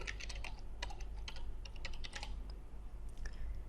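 Rapid, irregular keystrokes on a computer keyboard as a password is entered while creating a Gmail account, clicking close and crisp over a steady low hum, with no talking.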